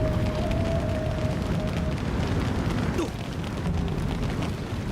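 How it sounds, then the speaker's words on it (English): Fireworks going off in the Wo Long video game, a dense, continuous roar of bursts and crackles that stays loud throughout with no clear gaps between blasts. "There are boxes of fireworks in there."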